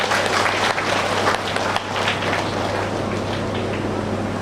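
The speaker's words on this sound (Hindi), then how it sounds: "सभी जोरदार तालियों से आहूजा जी का स्वागत करेंगे।" Loud, continuous audience applause from a crowd at a live devotional gathering, a dense steady wash of clapping that holds for several seconds with no talk over it.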